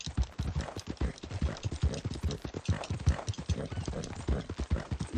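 Horse hooves clip-clopping in Red Dead Redemption 2, a steady galloping rhythm of close, repeated hoof strikes throughout.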